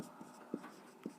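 Chalk or marker strokes on a board during a Class 10 maths lesson on circles, three short faint taps and scrapes spaced about half a second apart, quiet and close.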